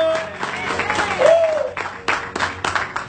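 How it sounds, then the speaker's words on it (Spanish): A church congregation claps loudly during a Spanish-language sermon, with bursts of applause rising and falling across the clip while a preacher's voice carries over the crowd. "Cuánto le aplaude fuerte los que limpian todo pecado de su corazón"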